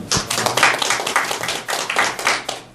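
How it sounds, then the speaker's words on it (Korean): An audience at a lecture on technology startups claps in welcome, a brisk, close burst of applause lasting a few seconds. "큰 박수로 환영."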